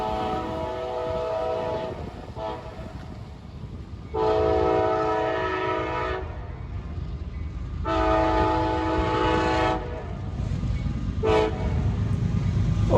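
A CSX freight train on the Indianapolis Line at Fortville sounds its horn in a salute as it passes, several loud, sustained blasts separated by short gaps over the low rumble of the passing train.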